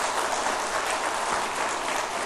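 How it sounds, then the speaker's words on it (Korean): A church congregation bursts into sustained, dense applause giving glory to God, a steady full-room wash of clapping with no voices over it. "하나님께 영광의 박수를 보내겠습니다."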